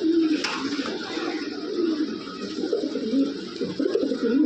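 A pair of black Lahori pigeons coos close by, low throaty repeated calls rising and falling over a steady background hum, with no voices.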